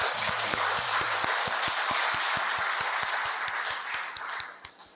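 A church congregation applauds together during a Sunday service, dense overlapping claps with a strong rhythmic beat of regular loud claps, sustained then tapering off at the end.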